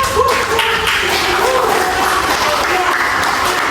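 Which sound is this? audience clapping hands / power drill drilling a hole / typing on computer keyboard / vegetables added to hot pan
audience clapping hands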